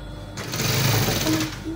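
A sewing machine runs steadily while stitching a curved V neckline on fabric, a close, continuous whirring motor hum that holds for the whole stretch without pause.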